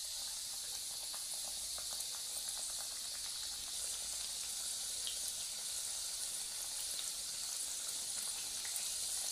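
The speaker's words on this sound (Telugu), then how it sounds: "ఇలా లో ఫ్లేమ్లో వేయించుకోవడం వల్ల ఏంటంటే చెక్కలు బాగా ఉడికి టేస్టీగా ఉంటాయండి, క్రిస్పీగా." Rice flour and moong dal chekkalu frying in oil on a low flame, a steady, even hiss of bubbling oil throughout, soft and continuous with no other sounds.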